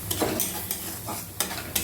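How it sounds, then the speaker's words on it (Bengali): A spatula repeatedly scrapes and stirs fish in yogurt in a pan, rhythmic sharp swipes over a low, steady sizzle, close by with no voices. "বেশ কিছুক্ষণ আমি নাড়বো"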